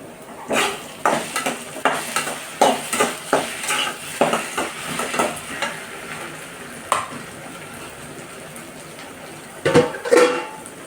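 Okra being sautéed in a pan for a Tamil okra pachadi, a metal spatula scraping and clinking in a steady series of sharp stirring strokes over a soft sizzle, close and fairly loud.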